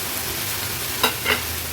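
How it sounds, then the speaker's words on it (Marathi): Cooked rice is stirred into mushroom fried rice in a hot pan over a high flame, a continuous close sizzle broken by two quick scraping stirs of a spatula. "आता आपण ह्याच्यामध्ये शिजवलेला हा राईस ॲड करणार आहोत।"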